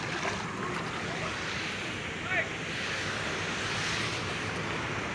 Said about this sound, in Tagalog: grabe baha diri guys oh